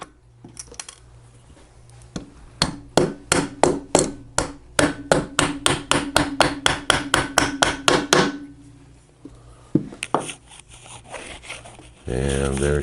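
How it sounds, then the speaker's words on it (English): A rawhide mallet taps alignment studs into a Harley-Davidson Evo engine case: a rapid, steady run of about two dozen sharp metallic knocks, close and loud, followed by a few scattered taps and a brief low rumble at the end. "Now these two studs are your alignment studs. We're going to tap them in place."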